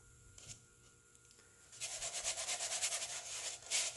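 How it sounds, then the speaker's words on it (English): Dirt is rubbed by hand onto a small Dollar Tree foam craft piece for a rustic farmhouse Christmas centerpiece, making a close, steady gritty scraping and rubbing that starts partway through and keeps going in uneven strokes. "Just rub the dirt on."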